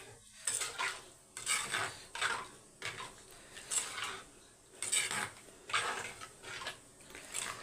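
Rhythmic scraping of a spoon stirring a thick curry in a pot, repeated strokes about once a second, close and clear.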